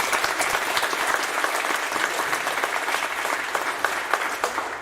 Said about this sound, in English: So if everybody could give her a round of applause.